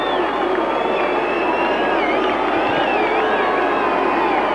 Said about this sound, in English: Judging by the boos, I think West might be favourites here with the crowd this afternoon